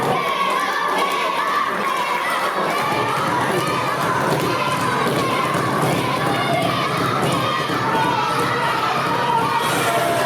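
A wrestling crowd at a CSW Legacy event roars for Moonshine Mantell, with loud, continuous cheering and shouting filling the hall throughout.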